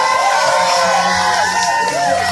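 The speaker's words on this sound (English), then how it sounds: "The camps are ready to cheer." Crowd at a lumberjack show saw race cheering and shouting loudly and steadily throughout, a dense wash of whoops and voices with no pause.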